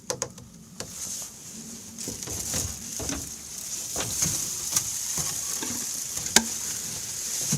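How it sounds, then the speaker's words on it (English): Gas and oil sloshing as they are shaken together inside a small plastic snowmobile fuel tank for a Polaris Indy 600 XLT, a steady churning wash with irregular knocks and splashes, fairly close and continuous. "Now we'll add gas to this and then shake it up so we can mix all the last excess of the oil."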